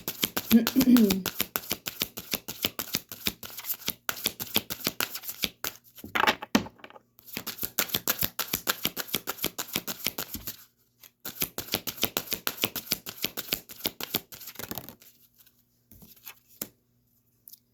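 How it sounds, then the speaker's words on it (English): Tarot cards riffle and shuffle repeatedly in quick bursts of crisp flicking, with brief pauses between rounds, close and clear. "let's see what actually comes out in the shuffle"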